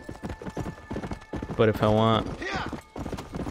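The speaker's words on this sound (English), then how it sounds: "to keep the horse's speed up too, I mean, I guess I could just hold A. He goes a bit slower." Horse hooves in Red Dead Redemption, a quick rhythmic clip-clop of a ridden horse, with a short whinny and someone talking over it.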